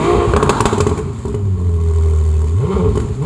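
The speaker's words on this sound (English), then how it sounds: "the single exit center mounted exhaust, which sounds absolutely insane." A Ferrari 296 GTB revs through its single center-mounted exhaust, a sharp rising blip followed by a sustained, loud engine note that climbs again at the end, heard close and alone.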